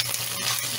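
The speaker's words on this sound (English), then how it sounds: "now we stir frying" Fresh wood's ear mushrooms stir-frying with bird's eye chili, garlic and ginger paste, a brief steady hiss of sizzling oil close to the pan.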